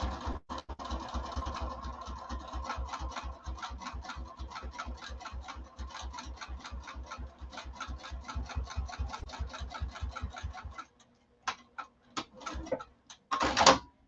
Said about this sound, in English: Sew down the other side at 1/4 of an inch.